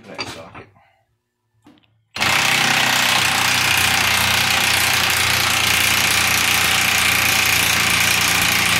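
An impact wrench with a Snap-on impact socket hammers at bolts on a 2009 Ford F750 driveshaft, a brief quiet start giving way to a loud, continuous rattling burst that runs for several seconds close up.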